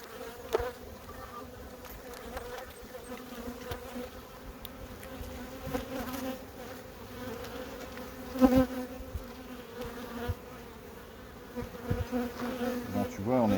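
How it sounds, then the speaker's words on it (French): A steady, dense hum of many honeybees buzzing at a hive in late August, continuous and close, with a few faint bumps and shifts but no talk. "Un essaim qui est propre, qui fait le ménage,"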